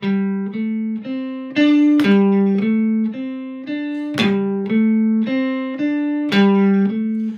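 A looped repeating pattern of sustained tones with sudden loudness jumps on certain notes, looping evenly without any voices.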